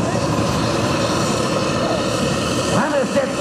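Tractor engine roaring steadily at a tractor pulling contest in Schlagresdorf, a loud continuous drone that holds throughout, with a commentator talking over it on the PA and rising tones near the end.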